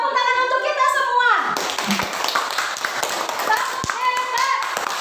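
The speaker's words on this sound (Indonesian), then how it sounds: "Tepuk tangan untuk kita semua." A class of children in a school classroom clap their hands together in a quick, ragged burst, with young voices chanting and speaking around the claps.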